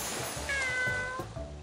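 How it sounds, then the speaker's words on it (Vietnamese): A cat gives a single clear, sustained meow at moderate distance, over a faint steady background hum. "Mèo, mèo, mèo, mèo, mèo."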